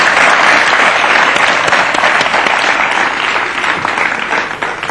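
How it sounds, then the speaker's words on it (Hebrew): Sustained audience applause at a Hebrew song celebration, dense and steady clapping throughout, loud and close, fading slightly toward the end. "אפשר לתת גם מחיאות כפיים."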